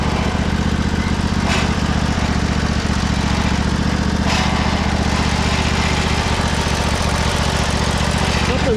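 1999 Craftsman lawn tractor engine running steadily at close range, a dense, constant mechanical drone with a faint whine from the transmission underneath.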